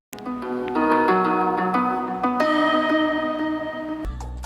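Soft, tonal background music from the farming video game Stardew Valley, a gentle melody of sustained, chiming notes that plays steadily and alone at moderate loudness for several seconds before a brief change at the end.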